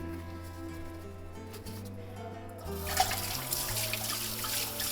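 Liquid medicine poured out indoors: a steady splashing, trickling stream starts partway through and continues to the end, fairly close and moderately loud over a low background hum.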